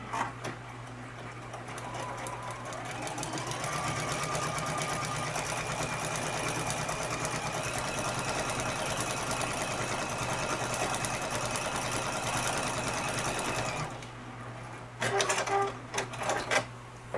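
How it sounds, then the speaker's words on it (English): A sewing machine runs continuously for about ten seconds while sewing the first seam of a quilt, a steady mechanical whir that ends in a few short bursts of stitching. "we're gonna sew this first seam"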